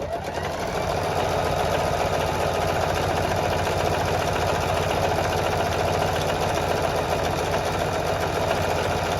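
A sewing machine stitching a jelly roll rug made with lots of batting, its motor whirring in a steady, continuous rapid chatter, close and constant throughout.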